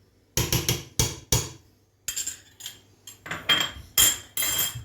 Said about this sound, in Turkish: Tereyağını bir karıştırayım.